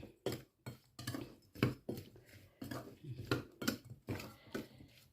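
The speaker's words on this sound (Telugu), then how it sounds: "వేసుకొని ఇది బాగా కలుపుకోవాలి." Lemon pickle with turmeric and asafoetida being mixed in a bowl, heard as repeated close scraping and clinking of a spoon against the dish in irregular bursts, with no speech.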